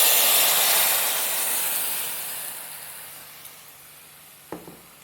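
Lentils (masoor dal) hitting hot tempering oil with curry leaves and chilli give a loud, broad sizzle that fades steadily over several seconds, with a couple of brief clinks near the end.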